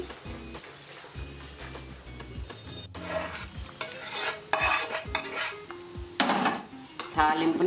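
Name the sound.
hot tempering poured onto tamarind rice and stirred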